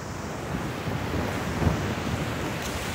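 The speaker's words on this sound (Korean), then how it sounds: "파도가 크게 넘어오고 있습니다." Big waves crashing on the shore during Typhoon Maysak, a loud continuous roar of surf and wind buffeting the microphone, with no voices.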